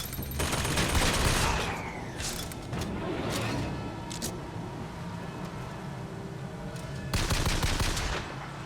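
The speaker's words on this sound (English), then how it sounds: "The turret's killed everybody." A hacked turret sprays sustained automatic gunfire at enemies in the video game BioShock Infinite, dense loud bursts with ricochets and impacts, easing briefly before a final heavy volley.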